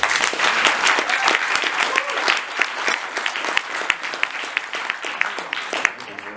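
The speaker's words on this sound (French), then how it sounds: "d'applaudir monsieur Marca" A film festival audience applauds a guest presenter with dense, steady clapping from a large crowd, sharp individual claps standing out throughout.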